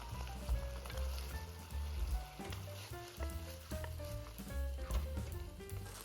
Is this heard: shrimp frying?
yes